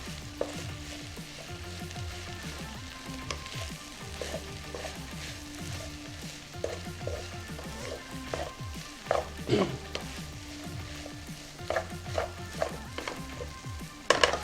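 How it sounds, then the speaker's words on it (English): Vegan kimchi fried rice sizzling and crisping on the bottom of a pan, a steady close frying crackle with occasional scraping stir sounds and no talking. "when the rice kind of warms up and then you hear like the crispy part on the bottom of the rice"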